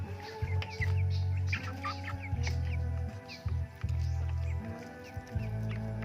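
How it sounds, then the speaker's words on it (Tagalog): Rhode Island Red chickens cluck and murmur close by in a farmyard, repeated soft clucks over a low, pulsing hum of background machinery or wind, with no speech. "Rhode Island chicken, Rhode Island red chicken"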